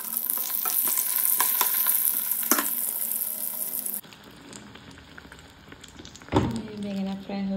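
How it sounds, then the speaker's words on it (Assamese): Eggplant fries in hot oil in a wok, giving a loud, steady sizzle with stirring scrapes. It then drops to quieter kitchen background noise, broken by a sharp clatter near the end. "বেঙেনা ফ্ৰাই হৈ গ'ল"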